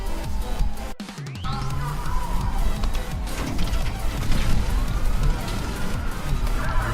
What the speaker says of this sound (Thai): มีรถตำรวจ